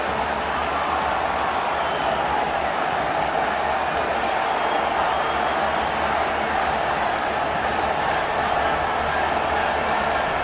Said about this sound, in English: With this crowd getting this loud